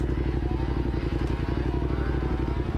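Electric bikes riding and doing wheelies on a Bronx street, heard as a continuous rumbling drone with rattling road noise from close by, with a faint voice in the background.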